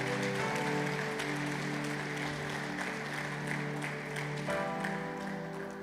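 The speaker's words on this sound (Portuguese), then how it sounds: "E aplauda com um aplauso mais forte que você" A church congregation applauds loudly in a service, a dense sustained clapping wash over held musical tones from instruments.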